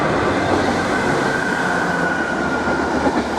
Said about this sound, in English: that's the train going by